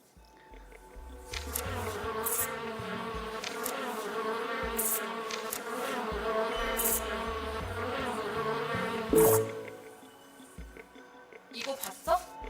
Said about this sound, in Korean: 이 메뚜기 떼는 사막 메뚜기야.